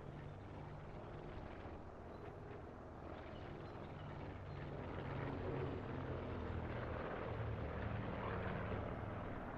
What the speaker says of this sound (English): Is that just a plane, or is there a helicopter around too?